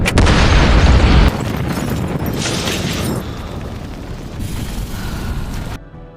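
Car bomb explosion from a Peaky Blinders film scene: a loud, deep blast opens the clip, then a long rumbling roar and debris noise that slowly fades before cutting to near silence.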